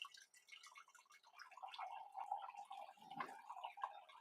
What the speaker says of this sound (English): you can hear that pour